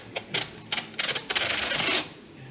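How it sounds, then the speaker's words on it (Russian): Adhesive tape is pulled and pressed onto a plastered wall, giving a run of sharp, close crackling rips that merge into one sustained tearing stretch before stopping abruptly. "Вот сюда я заклеиваю скотч."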